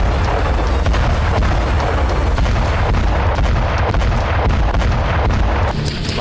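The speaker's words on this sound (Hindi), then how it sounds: "इस इलाके में एक बार फिर रूस और यूक्रेन की तरफ से बारूदी हमले तेज हो चुके हैं।" War footage from Bakhmut carries heavy, continuous rumbling booms of artillery fire and explosions, dense and loud throughout, with the rumble easing slightly near the end.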